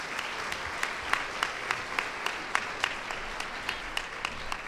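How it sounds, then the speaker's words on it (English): Audience applause at a Women's Hall of Fame ceremony for commission members and an appointee, a soft, moderately distant patter of many hands with a few sharper individual claps standing out in a loose rhythm. "So please join me in giving a round of applause to our members and our appointee."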